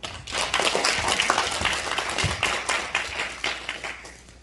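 Audience clapping to welcome a lecturer at a Yeongnam humanities talk on liquidating pro-Japanese legacies, a moderate burst of scattered hands with uneven rhythm, close and lively throughout.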